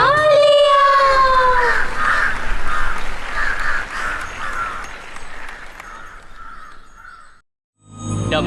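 An animated crow caws a few times in quick succession, close and loud, followed by a rougher stretch of noise and a short pause.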